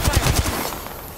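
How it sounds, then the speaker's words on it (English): A short, loud burst of rapid automatic gunfire in Apex Legends, several quick shots close by that fade into a brief echoing tail. "Taking fire! Getting shot at."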